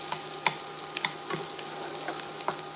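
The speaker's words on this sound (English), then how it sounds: "Now your onions are cooking" Onions frying in a pan with smoked sausage (kolbasa) for solyanka, a steady close sizzle with occasional stirring clicks and scrapes, no talking.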